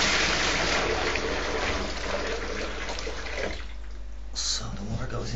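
Tap water pours steadily into a kitchen sink, a continuous broadband rush that stays close and fairly loud throughout, with a brief splash change near the end.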